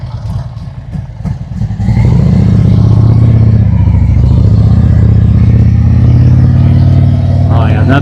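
Harley-Davidson motorcycle engine on a dyno in road mode, idling with light rumble before the throttle opens at about two seconds into a loud, sustained rev that holds steady and close.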